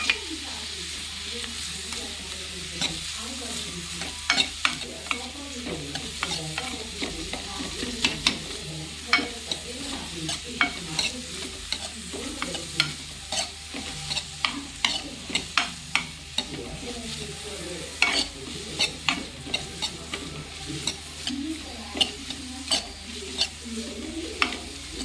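Garlic and onion fry in a pan for tomato sambar, browning under a steady sizzle punctuated by frequent sharp spoon taps and stirring scrapes, close and continuous throughout.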